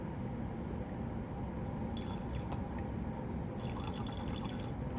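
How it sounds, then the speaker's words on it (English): Water poured into a lab flask over spongy copper to rinse it, a soft continuous trickle and splash over a steady background hiss, close and quiet, with no talking. "I'm gonna rinse just one more time with some water"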